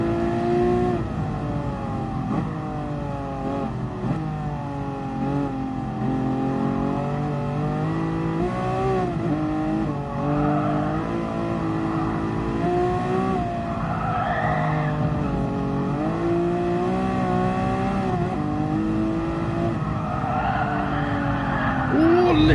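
A race car laps Bathurst in GT Sport, its engine whining loud and steady through shifting revs, with tire squeal through the corners and someone talking over it.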